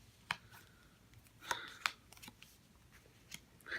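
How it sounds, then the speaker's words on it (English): A few soft, crisp slaps of tarot cards land on a surface at irregular intervals, quiet and close, with faint rustling between them. "Enough with this shuffling. Let's just put the cards down."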